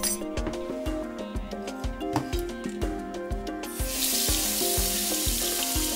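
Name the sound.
rinsing a dermatome blade under warm running water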